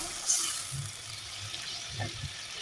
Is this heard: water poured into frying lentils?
yes